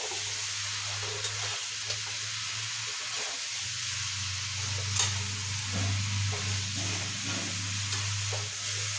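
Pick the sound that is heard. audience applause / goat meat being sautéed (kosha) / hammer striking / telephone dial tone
goat meat being sautéed (kosha)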